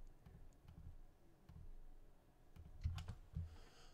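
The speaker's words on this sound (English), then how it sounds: "hold down shift and click all the rest" A handful of soft computer mouse clicks sound close and quiet while the shift key is held to select several items, with faint keyboard tapping around them.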